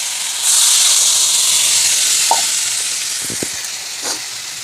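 Water poured into a hot pan of fried spices sets off a loud, sudden hiss and sizzle that hangs on and slowly fades, with a few faint clinks and small bubbling pops near the end.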